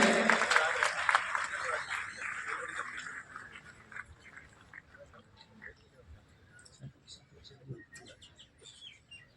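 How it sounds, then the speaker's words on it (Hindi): Loud applause bursts out at a railway overbridge foundation-stone ceremony in Sujangarh, welcoming guests, then fades over a few seconds into scattered low crowd sounds and voices. "जोरदार तालियों से इनका स्वागत करें।"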